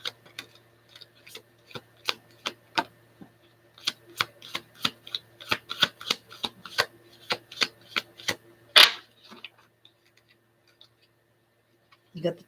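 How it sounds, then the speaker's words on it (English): A tarot deck is shuffled with a long run of crisp, evenly spaced card taps and slaps that sound close. One sharper slap comes near the end, followed by quiet. "One more shuffle, Spirit."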